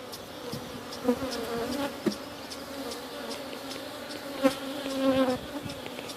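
Dense, steady buzzing of many honeybees close by around a hive being split, a continuous insect drone with a few louder passes as individual bees fly near.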